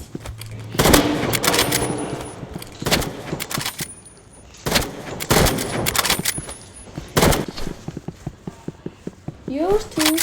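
Video game gunfire in a one-versus-one match, rapid bursts and single shots cracking in repeated clusters, loud and close, with people talking between the volleys.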